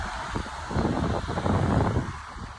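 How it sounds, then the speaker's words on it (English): Heavy wind gusts during a thunderstorm under a shelf cloud in Walpole, Massachusetts, rushing and buffeting the microphone in surging waves with rustling in the background. "Heavy wind gusts right now."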